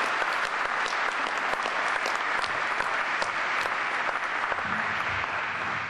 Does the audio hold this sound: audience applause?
yes